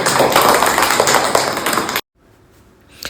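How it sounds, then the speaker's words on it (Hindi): Children in a classroom clapping hands together in a dense, lively burst for about two seconds, stopping abruptly into near silence. "ताली बजाओ सब।"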